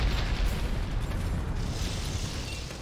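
A missile blast in the video game Metroid: Other M, a dense, loud low rumble that swells at the start and rolls on steadily for a few seconds, slowly fading, with no talk over it.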